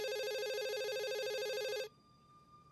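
Telephone in the 1994 film Wes Craven's New Nightmare ringing with a loud, trilling electronic bell for nearly two seconds before cutting off abruptly, leaving a quiet hum.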